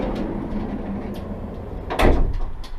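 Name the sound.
sliding door of a Ram Promaster van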